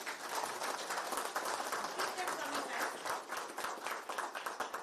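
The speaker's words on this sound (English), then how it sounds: "A big round of applause, please." Audience applause greets a speaker called to the stage at a Business Continuity Awareness Week event, a steady, loud burst of many hands clapping throughout, with a brief spoken line over it.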